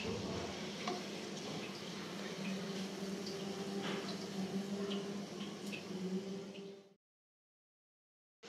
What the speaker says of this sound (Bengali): আর বাকি দুইটাও আমি এভাবে করে ভেজে নেব।